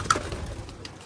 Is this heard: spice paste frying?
no